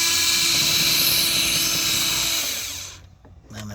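A power driver with a Torx 30 bit whines loudly and steadily up close while removing screws from the front passenger door of a 2010 Volkswagen Tiguan 2.0T, then winds down and stops.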